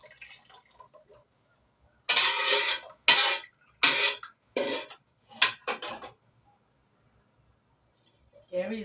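A metal spoon scoops and scrapes inside a pot of banga stew, giving several loud, close bursts of clattering and scraping separated by short pauses.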